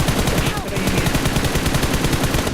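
Rapid automatic gunfire in the battle royale game BGMI rattles loudly and continuously in a fast, even burst with no pause.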